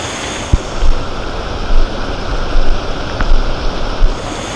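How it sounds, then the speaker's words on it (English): A waterfall on a hike in Kauai, Hawaii, giving a steady, loud rush of falling water with a few small knocks and shifts in the roar. "Yeah, tons of waterfalls."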